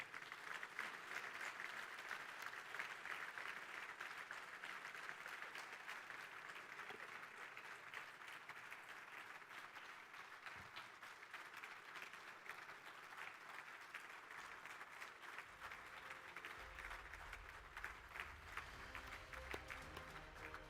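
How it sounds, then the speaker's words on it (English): Sustained applause from a large audience for finalists at a nursing award ceremony, steady and continuous for the whole stretch, with a low rumble joining toward the end. "One final round of applause before we announce the winner."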